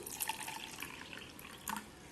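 Faint running water splashes and trickles into a vessel, with a couple of small clinks, quiet and close.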